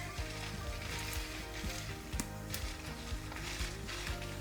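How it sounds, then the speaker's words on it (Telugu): Dried red chillies frying in oil for a spicy black gram chutney, a low steady sizzle with faint crackles close by. "నూనెలో ఎండుమిరపకాయలని కూడా కాస్త వేగనివ్వాలి"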